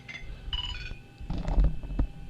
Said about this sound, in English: I have a phone call.